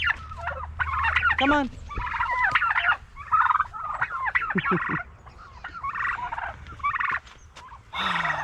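Turkeys gobble repeatedly in an orchard, a busy run of loud, close calls and bursts that fill the clip, with a brief spoken voice mixed in.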